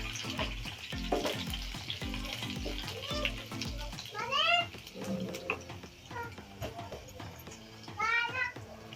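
Mustard seeds and crushed garlic cloves frying in hot oil for a pea and cauliflower vegetable dish, a steady sizzle with faint popping, with a voice speaking intermittently over it.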